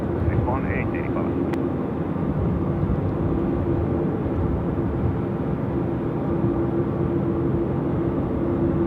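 An Airbus A330-300 at Sydney Airport spools up its engines at night, a broad, steady roar with a faint rising whine, heard from a distance under ongoing talk and radio chatter.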